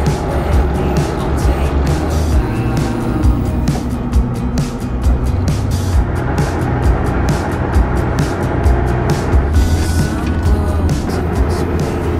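A VW T3 Syncro bus drives off-road on a grey autumn day, its engine droning loudly and steadily throughout while the body clatters and knocks over rough ground.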